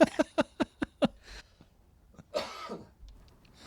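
A burst of six sharp, evenly spaced coughs, then a pause and a rougher throat-clearing rasp, close and loud with no talking.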